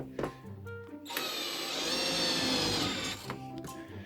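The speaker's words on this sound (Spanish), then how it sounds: "Como veis, el tornillo ha entrado perfectamente." Cordless drill driver set to clutch position 17 driving a screw into wood, a rising motor whine for about two seconds that strains as the screw seats, with small clicks before and after.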